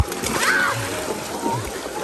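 Water splashing as people wade into a stream near a waterfall, with a steady rushing wash throughout and voices talking over it.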